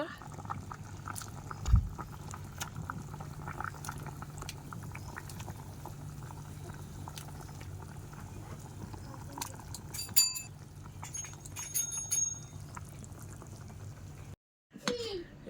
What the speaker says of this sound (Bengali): ভাতের ফ্যানটা গেলে নি এদিকে মশলা বেটে নিয়েছি তরকারির ঝোলটাও ফুটছে